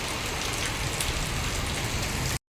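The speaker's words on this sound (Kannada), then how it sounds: "ಒಂದು 15 ನಿಮಿಷ ಆಯಿತು ಮಳೆ ಬರ್ತಾ ಇದೆ" Rain falls steadily and heavily, a dense even hiss close by with no voices, cutting off abruptly near the end.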